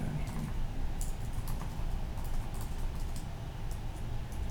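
Quiet, rapid keystrokes on a computer keyboard during an online community meeting call, irregular clicks over a steady low background hum.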